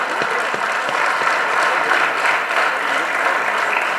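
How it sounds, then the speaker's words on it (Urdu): Steady, dense applause from a mushaira audience greeting the final guest poet at an Urdu poetry gathering in Multan, sustained and fairly loud throughout with no talk over it. "اب یہ تقریب کے آخری مہمان شاعر جناب عزیز شاہد، آپ سب کی بہت ساری تالیوں میں جناب عزیز شاہد"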